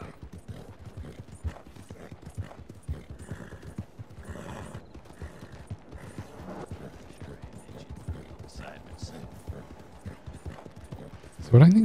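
Horse hooves clip-clop steadily on the ground in the Red Dead Redemption 2 video game, a continuous moderate rhythm with faint mechanical rattles, ending in a brief louder burst.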